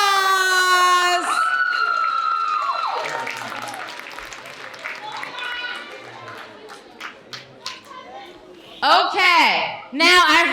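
An audience at a school oratorical contest and art competition applauds for student winners, dense clapping and scattered cheers swelling after a speaker's voice, with brief talk returning near the end.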